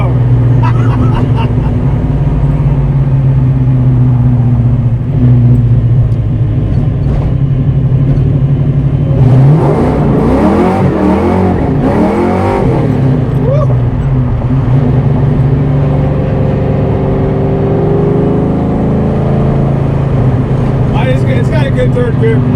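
A Ford 387 stroker engine with Mac mufflers accelerates hard through the gears, a loud, steady, rumbling exhaust roar that rises and swells around shifts, with voices under it.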